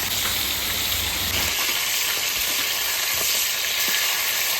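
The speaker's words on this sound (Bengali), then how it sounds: "এর মধ্যে নুন হলুদ একটুখানি মেখে তারপর এগুলোকে ভালো করে ভেজে নিচ্ছি।" Boiled potatoes coated with salt and turmeric frying in oil, a dense, continuous close sizzle with faint occasional stirring clicks, no talking.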